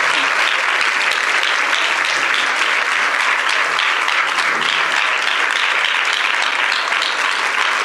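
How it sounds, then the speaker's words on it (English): Loud, dense audience applause fills a conference hall after a keynote introduction, a continuous wash of clapping that holds steady throughout. "Let's give this woman a round of applause."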